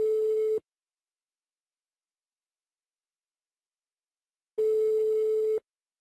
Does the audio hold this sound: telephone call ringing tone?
yes